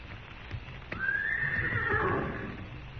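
A horse neighs in a long rising-and-falling whinny, with clip-clop hooves and shuffling nearby, a radio drama effect from a western show.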